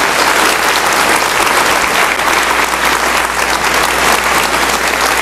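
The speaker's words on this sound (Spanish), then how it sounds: "Un fuerte aplauso al Señor" Loud, steady applause from a church congregation at a worship service, dense clapping filling the room without pause from start to finish.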